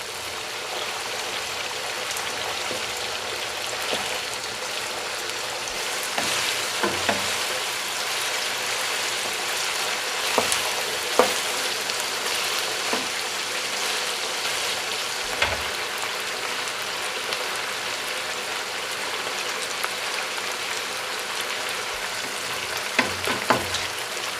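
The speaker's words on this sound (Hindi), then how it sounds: "चिकन के जो पीस है वो अच्छी तरह फ्राई करने हैं। कोई मसाला नहीं डालना, सिर्फ इसको पहले फ्राई करना है ऑयल में।" Chicken pieces frying in oil with no spices, cooking for an Afghani chicken karahi, giving a steady loud sizzle that runs unbroken with small pops and crackles.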